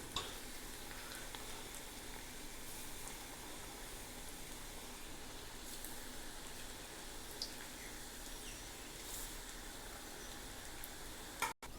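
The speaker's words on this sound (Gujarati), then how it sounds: "ભજીયા તરી લઈએ આને કાચા પાક જ કરવાના છે અને ધીમા ગેસે કરવાના છે" Bhajiya frying in hot oil over a low gas flame give off a steady, even sizzle with small crackles and pops. It carries on alone for the whole stretch and ends in a brief knock.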